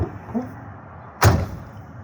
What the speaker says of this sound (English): We'll open the door from the other side.